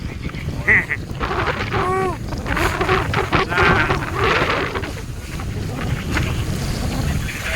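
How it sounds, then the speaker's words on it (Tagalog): A boat pushes through big, rough sea waves, with a steady rush of water and wind buffeting the microphone. Brief squawking tonal calls and faint voices come through the noise. "Talagang ang alon ay grabe."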